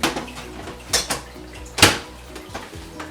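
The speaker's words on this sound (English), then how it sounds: "Open that rice cooker here." A rice cooker lid is lifted and handled in a home kitchen while sinigang is being prepared, giving a few sharp metallic clanks and clatters, the loudest near the middle, with softer knocks around them.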